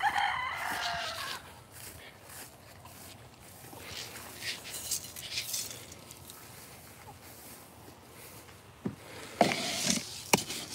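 Chickens cluck and crow around a garden where potted plants are being repotted, moderately near, with brief sharper calls near the end and no talk.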